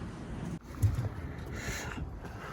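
Tumbler pigeons give a few soft, faint coos outdoors, short and low, against quiet background noise.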